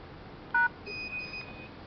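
Telephone keypad DTMF tones from a phone-controlled lights, AC and appliance controller: one short, loud dual-tone key beep, followed by a quieter, longer steady electronic tone, no speech.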